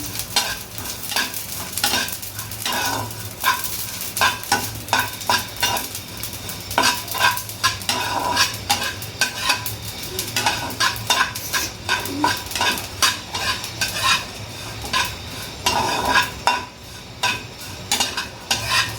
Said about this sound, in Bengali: এখন এই সেময়টাকে ভেজে নিলাম